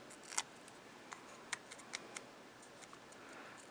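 Backing is peeled from foam adhesive squares in a quiet room, producing a series of faint, sharp little ticks and crackles spaced irregularly, with a soft rustle near the end.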